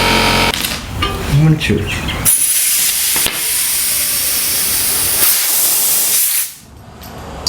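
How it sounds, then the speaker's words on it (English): An air compressor blasts a loud, continuous hiss of air into tubeless gravel bicycle tires to seat the beads, running for several seconds before cutting off abruptly, with a short stretch of speech at the start. "So easy with an air compressor."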